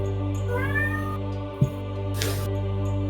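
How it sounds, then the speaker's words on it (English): A cat meows with a rising, drawn-out cry, heard clearly over a steady low hum, followed by a brief bump and a burst of hiss. "Is there a cat there?"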